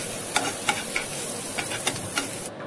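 Curry leaves and onions sautéing in a frying pan for egg pepper fry: a steady, close sizzle with a series of stirring scrapes at regular intervals, no voices.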